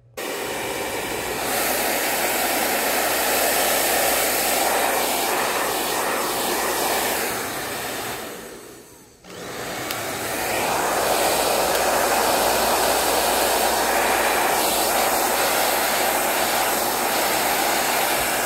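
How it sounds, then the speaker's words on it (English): A hair dryer on a low setting roars with a steady, loud airy whoosh, cuts off briefly, then starts up again and keeps blowing. "So I've got my hair dryer here. I'm going to tune it on low or a cool setting."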